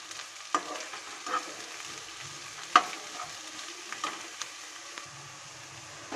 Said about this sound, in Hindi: अब मैं इसमें डाल दूंगी ये डाइस्ड कैरेट्स और साथ में ये फ्रेंच बीन्स और इनको अच्छी तरह से भून लूंगी